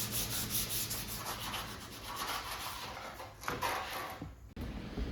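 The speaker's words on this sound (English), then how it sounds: "Just take some 180 grit with your hand, go around the whole thing and get it smoothed out." Autobody panel edges hand-sanded with 180 grit sandpaper make a steady, continuous scratchy rubbing close to the microphone, with no talking.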